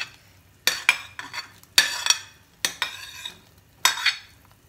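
Chopped vegetables, including corn and paneer, are stirred into a pot of boiling black pepper soup. About five separate close bursts of scraping and clinking come from a utensil against the pot, with quiet pauses between them and no talking.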